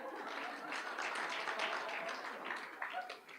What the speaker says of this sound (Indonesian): Kasih tepuk tangan dulu buat saya dong.